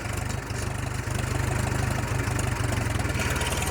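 A 1938 Farmall F-20 tractor engine chugs close by in a steady, rapid rhythmic putter, loud and uneven with a brief dip before resuming, with no voices over it.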